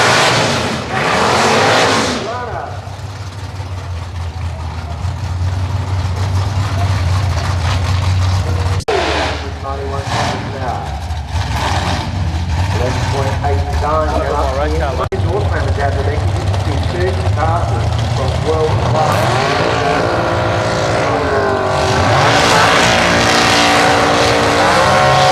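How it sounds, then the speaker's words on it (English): A V8 drag racing car at Perth Motorplex, a loud sustained engine roar with rising and falling revs and a low rumble over about twenty-five seconds, with voices speaking intermittently. "V8 car."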